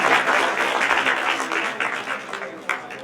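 An audience at a community student award ceremony in a hostel hall claps loudly and densely all through, the applause tapering slightly toward the end.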